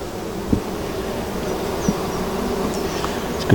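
Honey bees hum and buzz steadily around an opened hive during a summer inspection, a continuous close drone with a few louder passes of individual bees near the microphone.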